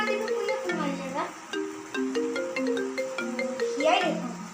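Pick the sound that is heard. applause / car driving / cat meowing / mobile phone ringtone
mobile phone ringtone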